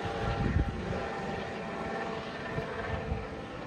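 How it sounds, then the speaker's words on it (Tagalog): Broadband rotor and engine roar of a helicopter overhead, a steady loud wash lasting throughout with slight pulsing, no voices heard. "Wow! May helicopter!"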